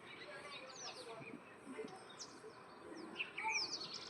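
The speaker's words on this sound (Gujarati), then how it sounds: "જો અહીંયા ચકલા બાવેડા માથે બેઠા છે જો મસ્ત મજાના બોલે છે" Sparrows chirp and tweet in scattered bursts against a quiet outdoor background at sunrise, some calls near and others faint.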